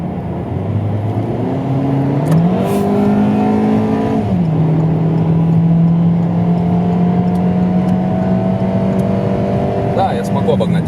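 A front-wheel-drive 2021 Hyundai Solaris accelerates to overtake on the road. Its engine note climbs through the revs, settles into a steady hum and rises again, heard from inside the car over constant road noise.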